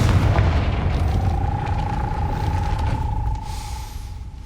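A deep boom with a rumbling tail and a thin ringing tone fades away as a Confringo fire spell blasts a gate in Hogwarts Legacy.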